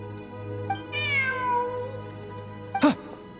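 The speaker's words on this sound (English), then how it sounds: "Look! A cat!" A cat in Genshin Impact gives a clear, drawn-out meow over a low ambient hum, followed by a short sharp chirp-like second call near the end.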